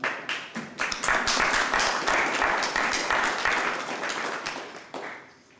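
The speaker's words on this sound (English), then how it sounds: "That deserves an applause" Applause at a city council priority workshop in Half Moon Bay, a room of people clapping in a dense, steady burst that fades out toward the end.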